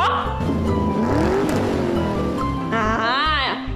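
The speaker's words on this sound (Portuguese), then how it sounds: "E a moto, ó?" A motorcycle engine revs and roars steadily during a Portuguese children's lesson on means of transport, loud and close, with a rising whine near the end and a voice briefly under it.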